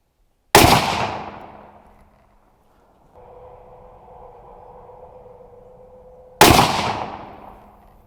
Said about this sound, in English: We're gonna now shoot it 100 yards, and I've got the Frontier 55 grain ball ammo in there, full metal jacket from Hornady Frontier.